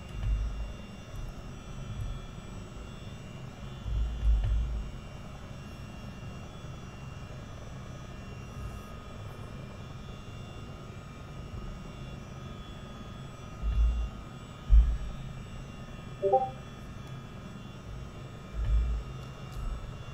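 Engines of a Chinook CH-47D helicopter in Microsoft Flight Simulator 2024 give a steady, low, moderate drone throughout, with occasional low thumps rising above it.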